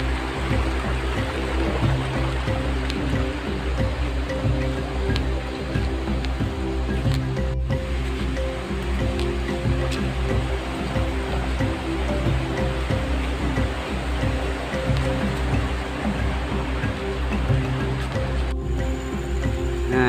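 A river fed by the Renah Sungai Besar waterfall runs beside a road, giving a loud, steady, unbroken rush of flowing water from start to finish.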